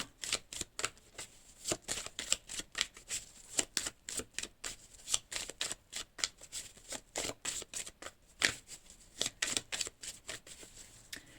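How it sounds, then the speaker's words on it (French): Tarot cards being shuffled by hand, a close series of quick riffling bursts and soft slaps repeating steadily, with no talking. "Allez, une petite carte chacun."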